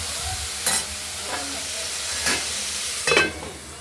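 Grated potato frying in oil in a wok, a steady close sizzle broken by a few sharp scraping stirs at intervals, with no talking.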